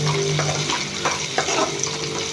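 Ivy gourd (dondakaya) fries in a pan with a steady, close crackling sizzle and occasional stirring scrapes, with no voices.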